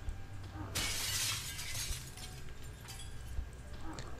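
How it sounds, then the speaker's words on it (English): A pane of window glass smashes in the zombie survival game Project Zomboid, one sharp, loud crash followed by briefer tinkling of falling shards over a low ambient hum. "I just smashed the window."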